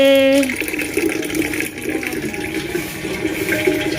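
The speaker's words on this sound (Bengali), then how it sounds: "জলটা পড়তে থাক কলসিতে" Tap water pours steadily into a water pot (kalshi), a continuous rushing splash that changes slightly in pitch as the vessel fills, with a brief tonal sound at the start.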